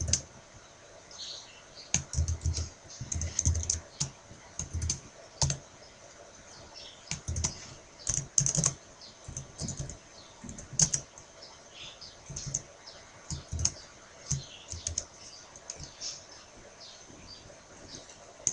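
Computer keyboard typing while entering an MSSQL query, heard as irregular bursts of close, crisp key clicks with short pauses between runs and no talking.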